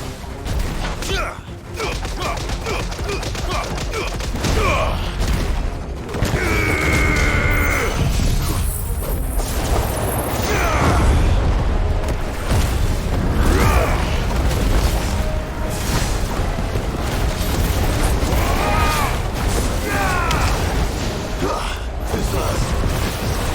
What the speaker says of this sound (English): All yours, Torgal. Judgment Bolt